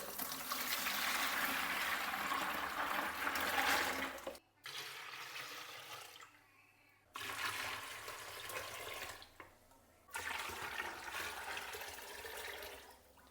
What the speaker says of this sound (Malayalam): ഇപ്പോൾ ഈ മിശ്രിതം ഞാൻ ഒരു ബക്കറ്റിലേക്ക് ഒഴിച്ചു കൊടുക്കുന്നുണ്ട്